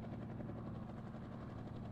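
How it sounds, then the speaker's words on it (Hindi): A helicopter in a mobile animal-transport simulator game drones with a steady rotor thump and engine whir, continuous and even throughout with no talking. "अभी फिर से हमारे पास हेलीकॉप्टर आ चुका है, हेलीकॉप्टर चलाने में हमें माहिर, तो फास्ट इसको उड़ा के लेके जाएंगे"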